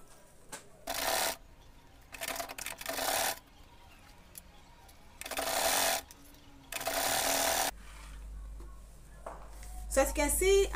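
A sewing machine top-stitches the lining of a sling crossbody bag in several separate loud whirring runs, each about a second long, with pauses of quieter handling between them and a low hum near the end.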